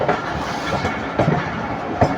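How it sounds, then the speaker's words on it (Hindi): The Tezgam Express pulls out of Rahim Yar Khan railway station with a steady, close rumble of rolling carriages and faint rhythmic wheel clicks. No one speaks. "स्टॉप के बाद गाड़ी रवाना हो रही है हमारी रहीम यार खान रेलवे स्टेशन से 5:47 पर"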